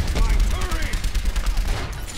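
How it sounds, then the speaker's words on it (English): Soldier 76's rifle in Overwatch fires in a rapid automatic burst, close and loud, repeated shots running across the whole moment with game sounds around them. "Simple, I can shoot stuff."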